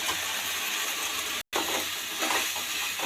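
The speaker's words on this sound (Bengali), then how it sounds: "এবারে এই যে 2 মিনিট মতন ভালোভাবে কষিয়ে নেব।" Potatoes and spices sautéing in a pan, a steady close sizzle with occasional stirring scrapes throughout, broken by a brief moment of silence midway.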